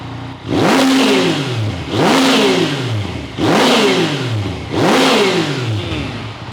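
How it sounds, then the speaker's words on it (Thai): A 2019 Yamaha MT-09 motorcycle revs hard four times in a steady rhythm, each blip a loud close exhaust snarl rising and falling, with no talking. "เดี๋ยวเราฟังเสียงท่อกันนะครับ"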